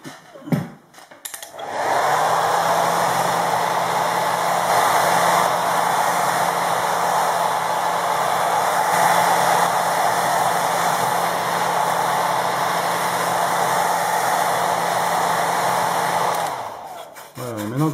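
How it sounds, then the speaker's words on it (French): Hair dryer blowing on fresh varnish over a painted tile, a loud, steady whooshing roar with a low motor hum that switches on after a brief handling clatter and runs continuously before cutting off near the end. "Un petit coup de sèche-cheveux."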